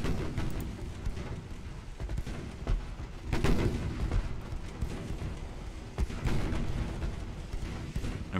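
In the Ultimate Admiral: Dreadnoughts naval game, a shell strikes a ship during an 1890 British campaign battle, heard as booming artillery-like impacts over a steady rumbling roar of gunfire and sea ambience.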